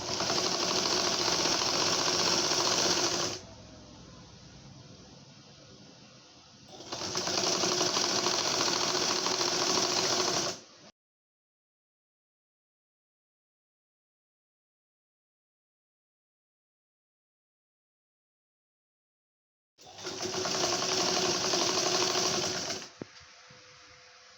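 A sewing machine stitches a frill onto the cuff of a Naira-style burqa sleeve in three close, loud bursts, the first two separated by a quieter stretch, then a long silence before the last burst.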